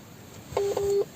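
A phone plays two short telephone dialing tones in quick succession, clear but fairly quiet over a soft background hiss.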